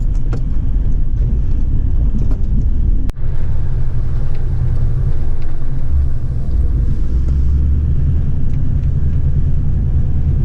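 A car drives through Victoria's High Country on a slippery mountain track, its steady, loud low engine rumble and road noise running throughout with one brief jolt.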